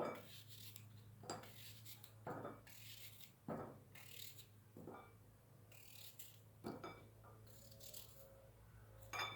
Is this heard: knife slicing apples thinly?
yes